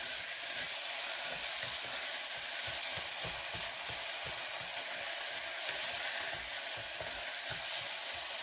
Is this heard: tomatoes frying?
yes